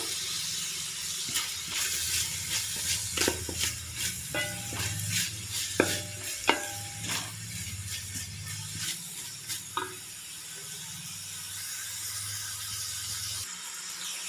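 Tomato rice masala with salt being sautéed in a pan: steady low sizzle with scattered scraping stirs and a few sharper clinks of the spoon against the pan, fairly close and without talk.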